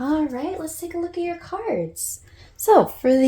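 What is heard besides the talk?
No everyday noise stands out behind the speech.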